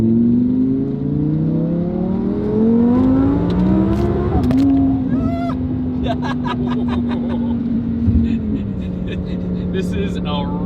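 An Audi R8 with a stock engine making 1800 horsepower launching hard on a highway, engine roar rising quickly through gears from inside the car, with people talking and shouting over it.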